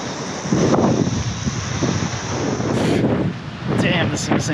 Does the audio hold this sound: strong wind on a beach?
yes